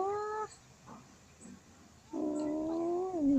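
A cat meows while being scratched on the neck: a short meow, a quiet pause with faint sounds, then a longer, louder drawn-out meow close by, with no talk.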